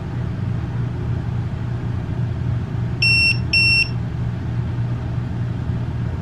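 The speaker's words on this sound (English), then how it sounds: "Now when it beeps twice, it pops up a random code, and now that sensor is set as sensor number 1." An Eez tire pressure monitor gives two short, high electronic beeps in quick succession while a sensor is being set, clear above a steady low hum of background noise.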